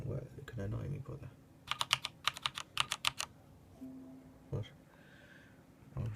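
Keys clatter on a SteelSeries G6V2 mechanical keyboard in two short bursts of quick, crisp clicks, moderately loud and close, with brief talk before and after.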